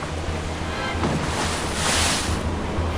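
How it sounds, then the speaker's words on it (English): Heavy waves slapping and surging against a ship at sea, a continuous loud wash of water with rising swells and a low rumble, no voices. "sending even larger waves to slap against their ship"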